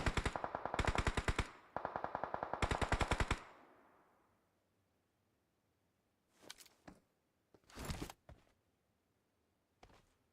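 Gunfire in the battle royale game PUBG Mobile during an esports match: two long rapid automatic bursts up front, then scattered shorter distant shots and single cracks after a quiet gap.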